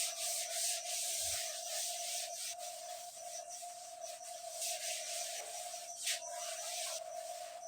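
A board being wiped to erase writing in a classroom lesson, continuous close scratchy rubbing strokes with a steady hiss and rhythmic swells, no talking.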